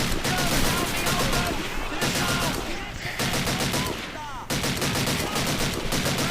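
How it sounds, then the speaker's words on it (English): Sustained rapid bursts from a Bren light machine gun in Call of Duty 2's British campaign, loud and near, broken by brief pauses, with chaotic battle noise beneath. "when they get kind of close, switch to the Bren."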